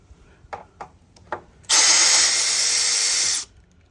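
A cordless impact driver backs a screw out in one sustained, loud burst of hammering whine lasting nearly two seconds, preceded by a few short clicks and taps.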